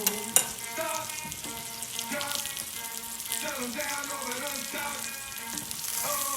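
Hennessy glaze simmers in a pan as the alcohol cooks off, a soft bubbling sizzle broken by clinks and scrapes of a utensil and a few bright metallic taps.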